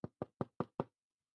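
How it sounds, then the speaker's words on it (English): Five firm, evenly spaced knocks on a door during a stage performance of Macbeth, close and loud with hollow thuds, followed by silence, no speech. "I hear a knocking at the south entry."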